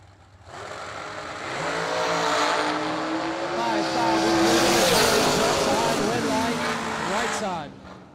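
A 2022 American Dragster launches at a drag race with a loud, sustained engine roar that swells over several seconds and then cuts away, while a voice talks over it.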